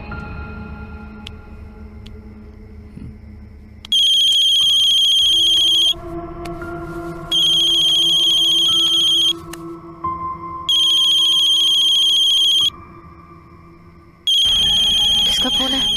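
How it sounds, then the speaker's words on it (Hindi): A phone ringtone plays in four loud, steady bursts of a few seconds each with short gaps between, over a bed of background music and low speech. "किसका फोन है?"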